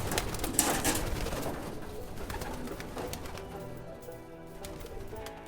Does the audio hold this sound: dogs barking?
no